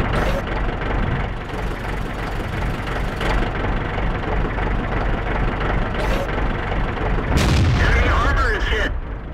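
Heavy tank cannon shots boom in World of Tanks gameplay from an SU-101 tank destroyer, a few sharp blasts over a constant rumbling engine drone.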